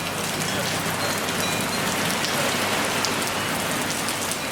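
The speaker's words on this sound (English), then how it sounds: "Here's the rain." Steady rain pours down on Koh Samui, Thailand, an even, dense hiss of drops striking surfaces that stays constant and fairly loud throughout, with no voices.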